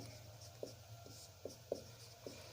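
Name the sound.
writing a math solution by hand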